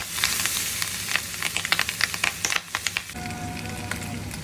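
Boiled pork pieces for chicharon fry in a hot pan, a close, steady crackling sizzle with sharp pops and spatters, settling into an even hiss near the end.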